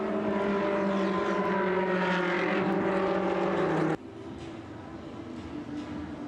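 A pack of Ferrari Challenge race cars runs at the 2016 Sochi circuit, their engines a loud, high, layered whine that cuts off abruptly into quieter track ambience partway through.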